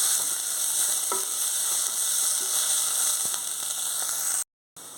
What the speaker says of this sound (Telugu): అల్లం వెల్లుల్లి పేస్టు స్పూన్ వేసుకోవాలి అడుగంటుకుంటుంది అంటుకుంటుంది సిమ్లోనే వేయించుకోవాలి